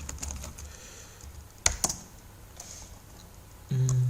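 Typing on a computer keyboard while coding in Python, with light, irregular keystrokes that come close and fairly faint, a couple of sharper taps midway and a low hum entering near the end, with no talking.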